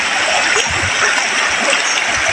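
Strong, fast stream rushing over white rocks at Sili, Bayabas, Danao City: a steady, loud broadband wash of splashing water, constant throughout with no gaps.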